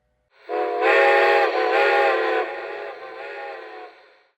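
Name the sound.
ghost whistle of Lionel Strasburg 90 steam engine model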